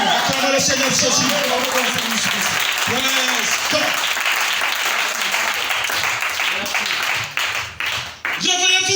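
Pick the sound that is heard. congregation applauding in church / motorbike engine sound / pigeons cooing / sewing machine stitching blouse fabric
congregation applauding in church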